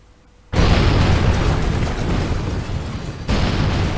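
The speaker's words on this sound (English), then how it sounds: "The explosions were satisfactory." Rocket explosions in Kerbal Space Program erupt as a sudden loud roaring blast after a quiet start, a sustained crackling rumble, then a second burst that keeps the roar going.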